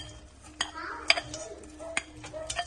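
A metal spoon stirs panjiri ingredients, including dry ginger powder, in a pan: soft scraping and mixing with sharp clinks against the metal at irregular moments, close and fairly quiet.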